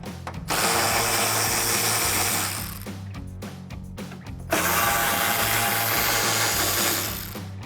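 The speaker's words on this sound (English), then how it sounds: "I'm just going to use my 10mm socket again to remove the 3 bolts that hold the headlight into place" A ratchet with a 10mm socket works loose the three headlight bolts on a 2005-2009 Mustang, giving a loud, dense mechanical whirring clatter in two sustained bursts with a short dip between, and no talking.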